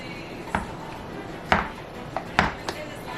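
Boiled cubes of tender potato being mashed in a pot, a few separate soft thumps and scraping knocks spaced irregularly, fairly close and moderate in volume with a quiet background.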